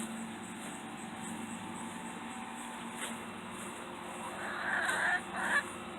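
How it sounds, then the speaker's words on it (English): Orpington chickens in a backyard pen, with a couple of short, harsh squawks near the end that rise over a quiet, steady background hum. "This is why I call the Orpingtons Rowdies, is this chicken right here."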